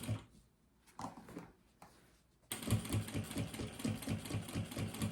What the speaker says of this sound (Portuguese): Vem fazendo a costurinha.